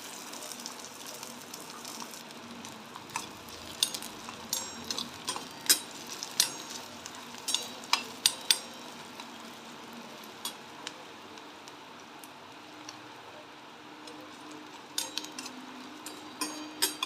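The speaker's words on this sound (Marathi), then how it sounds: "कांदा चांगल्या प्रकारे फ्राय करून घ्यायचा आहे।" Chopped onion fries in oil in a pan, giving a faint continuous sizzle. Sharp ticks and clicks of stirring come at irregular moments throughout.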